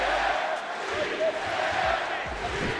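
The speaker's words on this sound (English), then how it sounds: ""She said yes" chants echoed through the All-State Arena." Wrestling arena crowd at the Allstate Arena during a WWE match, roaring and chanting in unison after a ringside marriage proposal; the dense crowd noise is loud and reverberant and continues throughout.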